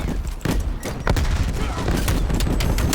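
Rapid shotgun blasts from the Street Sweeper in Call of Duty Black Ops Cold War, a dense run of loud close shots filling the whole moment with barely a pause.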